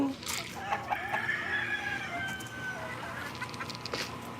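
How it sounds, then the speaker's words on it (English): Chickens on a hot fruit farm keep up a busy stream of clucks and squawks nearby, with a drawn-out crowing call rising midway amid outdoor background noise. "These are the civilized chickens."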